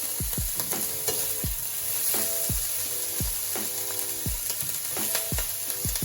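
Sliced courgettes frying in a pan, a constant gentle sizzle broken by rhythmic scraping stirs of a utensil against the pan roughly once a second, close and quiet.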